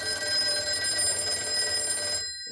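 The bell of a Western Electric multi-line telephone rings loudly and continuously, then cuts off abruptly near the end, leaving a brief quiet.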